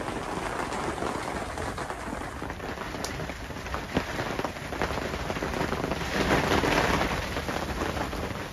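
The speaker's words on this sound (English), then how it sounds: "Yep, it's raining." Steady rain falls on a boat moored in a mooring field at Fort Myers Beach, a dense close patter on surfaces with scattered louder drops that swell in intensity toward the end, with no voices.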